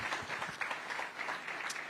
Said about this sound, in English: give the panel and all the speakers a very, very big round of applause